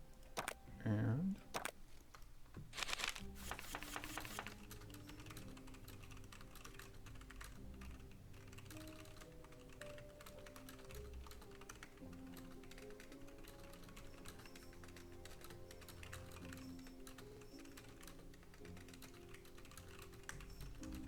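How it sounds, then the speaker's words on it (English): Fast clattering keystrokes on a computer keyboard, first in a couple of short bursts and then a steady quiet run of clicks over a low background hum, with faint speech underneath. "sorry, typing words."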